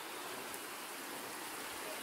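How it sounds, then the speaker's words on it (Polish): Steady rain pouring outdoors at a pigeon loft during a racing-pigeon arrival, a soft, even wash of noise with no break. "co chwilę przerywa troszeczkę, słabnie, wzmacnia się ten deszcz"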